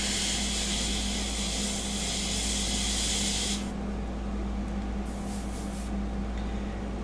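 Steady airbrush spray hiss from an Aztec airbrush during sepia portrait painting, loud and continuous, with the high hiss cutting out partway through while a low hum carries on.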